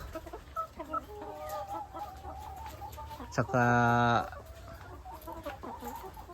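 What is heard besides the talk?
chickens clucking in a layer poultry building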